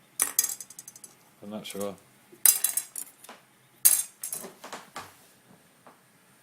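Plastic takeaway-style spoons clink and clatter in short irregular bursts, a series of sharp light knocks and rattles close by, with quiet gaps between handlings.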